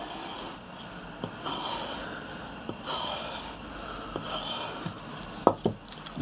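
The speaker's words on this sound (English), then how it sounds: "this strop is going over the blade very, very nicely, very, very smoothly" Soft, repeated rubbing strokes as a strop is drawn smoothly over a splitter machine blade, with faint scraping sweeps and a few light taps and clicks in a quiet workshop.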